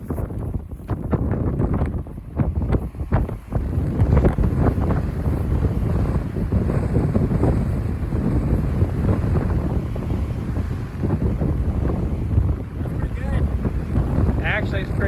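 Strong headwind buffeting a microphone outdoors at a disc golf event, loud gusty rumbling throughout with a voice speaking under the wind noise.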